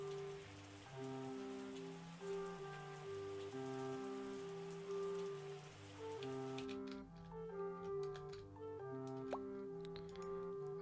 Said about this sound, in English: Oh, and now it rains.